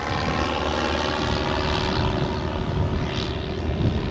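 A propeller aircraft flies overhead near the coast at Perranporth, battling a strong southwesterly wind. Its loud, steady engine drone is mixed with wind rush throughout, with no voices.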